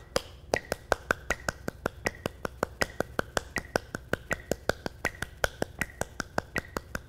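Hand claps come rapidly and evenly in a percussion practice drill, four claps to each foot tap. The stream of sharp, close claps carries on without pause or voices.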